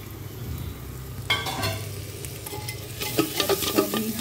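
Tomato and green chili masala stirred in a handi while cooking, a steady soft scraping with low sizzling that grows busier and more clattery toward the end, no talk.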